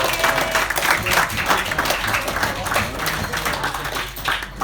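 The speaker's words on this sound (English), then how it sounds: "Big round of applause, guys." Wedding guests applauding at a reception, a steady, fairly loud wash of clapping with some crowd noise mixed in throughout.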